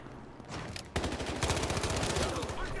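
Rapid submachine-gun fire from an MP7 in the video game Battlefield Hardline, a fast continuous stream of shots that starts after a brief lead-in and stays loud and close to the end.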